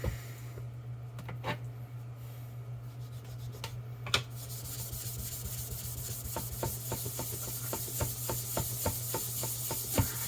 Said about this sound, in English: it just always seems to need a lot of work lapping